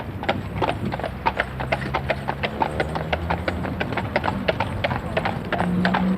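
A brewery horse trots on hard ground with steady, fairly close hoof clip-clops in an even rhythm, and a brief whinny-like sound rises near the end.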